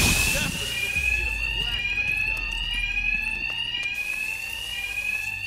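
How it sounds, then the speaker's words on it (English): Blaring electronic alarms ring steadily in the video game Batman: Arkham Knight, a sustained high whining tone with metallic clicks and thumps, while a voice speaks underneath. "these thugs can't hear a thing over the alarms"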